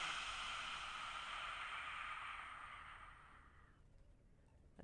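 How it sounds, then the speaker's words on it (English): Long deep exhaled breath during yoga practice on a dock, a soft airy sigh lasting several seconds that fades out, faint and close with no speech. "Take a deep inhale."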